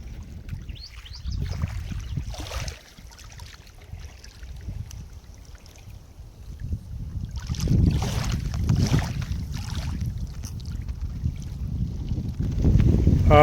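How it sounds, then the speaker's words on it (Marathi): Steady wind roars and buffets the microphone outdoors beside a large lake, with low rumbling gusts that swell louder toward the end; no talking. "वाऱ्याचा आवाज तुम्ही ऐकू शकाल व्हिडिओमधनं"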